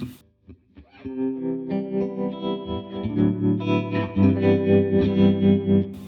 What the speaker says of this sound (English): on the last 4 you get this tremolo sound